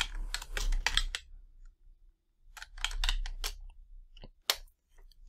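Bursts of computer-keyboard typing come in two quick clusters separated by a pause, then a single sharp click, crisp and close with a faint low hum underneath.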